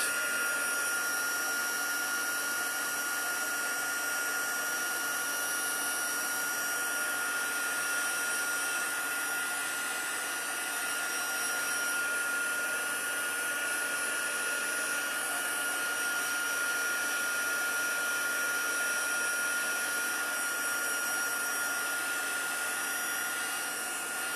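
A heat gun heating embossing powder blows a steady, loud, unbroken whooshing whine that holds constant from start to finish, with no voices over it.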